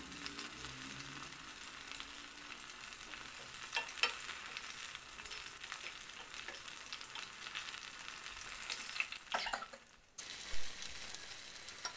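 A mushroom-shaped snack fries in a pan with steady, broadband sizzling, turned over to cook on both sides, with a few scraping clicks and a brief dip in the hiss near the end; no one speaks.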